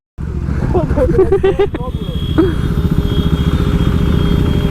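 A KTM Duke 390 motorcycle engine runs close by with a steady, throaty rumble throughout, while someone speaks briefly over it.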